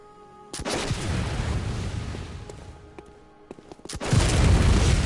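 Shotgun blasts from a hunter's weapon in the video game Bloodborne: The Old Hunters, two sharp booming shots with a longer rumbling tail of combat noise, loud and close.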